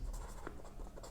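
Pen on paper writing out numbers by hand during a maths lesson, a soft scratchy stroke sound with a couple of faint taps, quiet and close.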